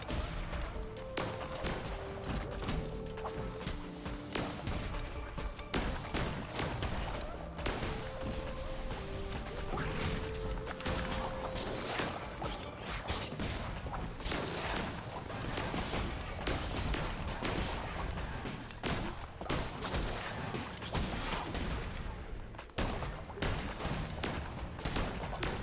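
Cult of the Lamb gameplay full of rapid, repeated gunshot-like blasts and crashing impacts in dense bursts over game music, with no talk heard.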